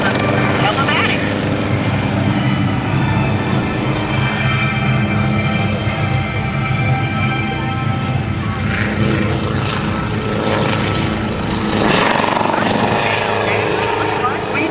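A helicopter performs at a Blue Angels homecoming air show, its rotor and engine roaring loudly and continuously throughout. The roar rises and falls slightly as the aircraft maneuvers, and crowd or announcer noise mixes in.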